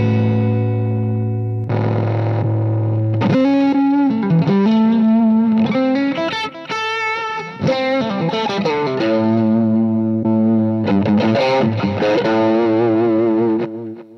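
Distorted electric guitar played through an amp with a 1Control footswitch, the tone changing abruptly between channels and gain settings across several held chords and short riffs, loud and continuous with no talk.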